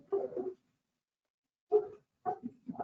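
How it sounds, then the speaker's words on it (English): Dogs bark nearby in short bursts: one bark, a pause, then a couple more barks in quick succession, clear and close with no talking over them. "The dogs are barking"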